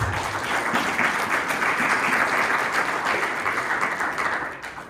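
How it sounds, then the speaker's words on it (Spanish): During a Bible study, a congregation claps together in a loud, dense, continuous round of applause that fades slightly at the end. "Háganle una ofrenda de palmas al Señor."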